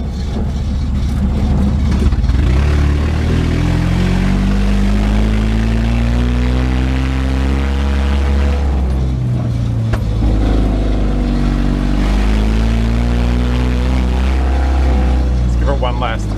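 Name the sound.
mini truck engine running, sounding like a hit-and-miss engine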